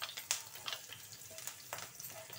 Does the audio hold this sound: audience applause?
no